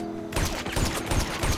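Rapid marksman rifle shots ring out in GTA Online, a loud run of sharp repeated cracks from about a third of a second onward, each blast trailing into the next with no talk over them.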